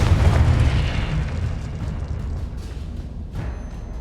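A Confringo blasting curse explodes in Hogwarts Legacy with a loud, deep boom right at the start, then rumbles and fades over several seconds, with faint crackles trailing off.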